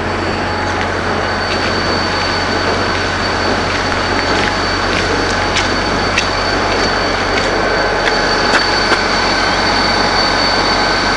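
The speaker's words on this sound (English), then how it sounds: "Southbound train should be coming this way." A Union Pacific FrontRunner passenger train rumbles past close by, southbound, a steady loud roar with wheel noise and occasional metallic squeals throughout.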